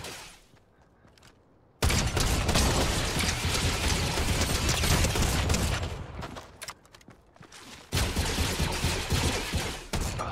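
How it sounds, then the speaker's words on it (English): Drum shotgun blasting in Fortnite, a sustained burst of rapid, loud shots running almost continuously for several seconds, easing briefly then resuming, with no voices over it. "Love that drum shotgun."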